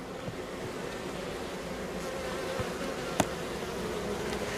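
Honey bees in a hive, with the comb holding honey stored directly above the brood nest; a steady, close, even hum of many bees with a single sharp click partway through.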